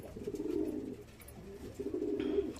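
Pigeons coo nearby in two soft, throaty rolling bursts with a short pause between, close and clear over a quiet background.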